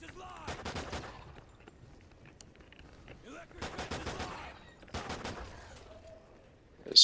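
Pistol fire in a Call of Duty match, heard as three bursts of rapid close shots separated by quieter gaps, with a brief voice and a sharp loud hit at the very end.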